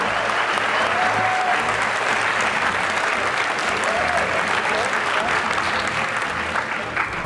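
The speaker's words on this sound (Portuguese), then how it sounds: "uma salva de palmas forte para toda essa galera" Loud, sustained applause fills the SBGames 2013 awards ceremony hall for an independent games festival, a dense crowd clapping steadily throughout without a break.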